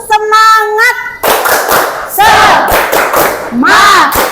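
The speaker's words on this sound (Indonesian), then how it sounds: "ibu cek semangatnya boleh ya? Boleh, Bu. Oke," A school class performs a rhythmic clapping cheer, loud sharp claps in a steady beat mixed with many children's voices shouting together, with a teacher's voice leading.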